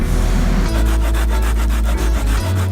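A hand saw cuts through wood for a campfire at a campsite, giving steady, rhythmic rasping strokes up close over a low background rumble before the stroke abruptly stops near the end.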